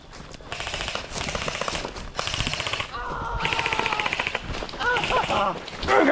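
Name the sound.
airsoft guns firing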